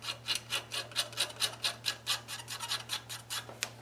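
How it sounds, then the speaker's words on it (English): Repeated gentle scraping strokes of an X-Acto knife across the high points of a South Bend 13-inch lathe name plate, a steady rasping rhythm of about a dozen strokes, close up and quiet over a constant low hum. "so I'm still going to scrape all the high points"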